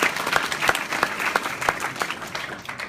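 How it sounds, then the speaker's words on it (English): A crowd claps steadily at a university event, a burst of applause with quick, dense hand claps that fade slightly toward the end. "So give her a hand clap for that."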